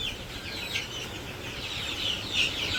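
Chickens cluck softly and intermittently at a distance over a steady background hiss, the calls faint and scattered.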